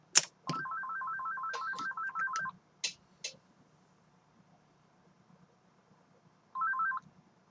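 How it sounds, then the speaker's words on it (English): A phone ringtone trills in a rapid repeating burst for about two seconds, with a couple of clicks and knocks, then rings again briefly near the end in an otherwise quiet room. "That phone call wasn't for me"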